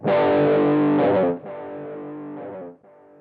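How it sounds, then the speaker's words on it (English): Heavily distorted electric guitar power chords ring out, a long sustained hit followed by a second quieter one, then a brief fading strum, with no voices. "the type of flavor a 5 chord is, it sounds kind of like this"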